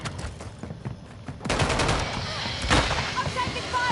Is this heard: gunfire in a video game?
yes